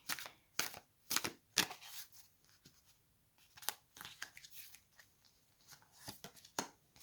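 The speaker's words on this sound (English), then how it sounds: "Let's just see if we can pull one card for Selena and see" A tarot deck is shuffled and a card pulled, quiet close riffling and papery snaps in irregular bursts with short pauses between them.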